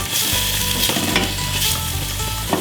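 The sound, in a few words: onions frying in butter in a pan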